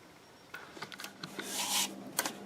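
Abrasive scraping bursts, short at first, then a longer sustained rasp, as sandpaper is worked over a black locust end-grain vase on a wood lathe at close range.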